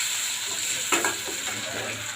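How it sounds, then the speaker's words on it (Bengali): Eggs frying in a pan give a steady close sizzle throughout, with a couple of brief clinks or stirring scrapes near the middle. "ডিমটা ভাজা হয়ে গেলে উঠে নিব।"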